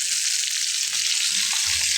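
Sea fish crackles and sizzles in hot oil, producing a continuous, close, even frying hiss with faint low clatters beneath.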